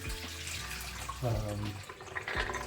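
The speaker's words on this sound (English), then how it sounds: "we'll replace the water with fresh water" Soaked chickpeas rinsed with fresh water, a soft running and splashing of water into a bowl with a few gurgles and drips, quiet and close, with no talking.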